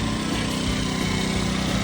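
An Icebear Maddog Chunkis Gen 1 scooter engine runs steadily at close range, a loud, continuous buzzing drone with a throbbing low rumble and no talk over it.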